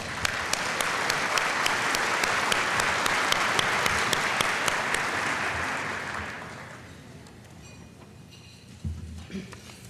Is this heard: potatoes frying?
no